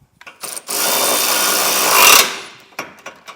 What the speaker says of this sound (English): So we're not done drilling yet.